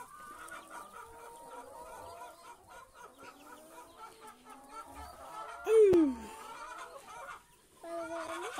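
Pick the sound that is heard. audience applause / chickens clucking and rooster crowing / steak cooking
chickens clucking and rooster crowing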